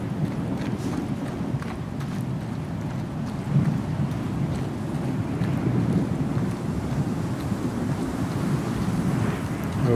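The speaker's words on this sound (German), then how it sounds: "Oh, Wind." Icy wind on the frozen planet Calliope in the video game Star Citizen, a constant low, rumbling gust that swells slightly now and then, with no voices.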